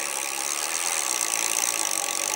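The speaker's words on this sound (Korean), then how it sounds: "어, 모터 소리 들리시죠?" A Voltmonster MB20 48V electric bicycle hub motor runs in a steady, even whir with a faint mechanical rattle, fairly close and unbroken throughout, with no voices.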